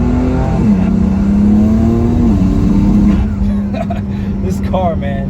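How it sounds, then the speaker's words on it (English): A BMW F80 M3 with upgraded Stage 2 turbos revs hard in M mode, a loud steady engine drone rising and falling through shifts, with turbo spool and intake noise up close and crackling bursts near the end. "You can hear the spooling of the turbo, you can hear the intake"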